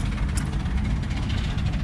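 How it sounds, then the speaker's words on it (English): Steam engine running at an antique machinery show with a steam-powered sawmill, a steady low chugging rumble close by with a dense broadband hiss, continuous and without talk. "Here goes the steam engine again."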